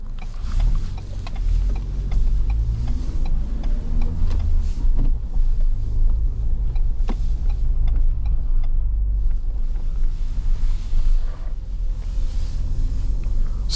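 A 2022 Ford Bronco with a manual transmission driving through tight Boston city streets, heard from inside as a steady low engine and road rumble with wind noise throughout.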